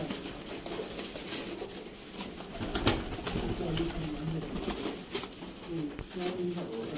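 Sialkoti pigeons coo softly in a loft at a pigeon sale, with faint wing flutters and scattered shuffling behind someone speaking over them throughout.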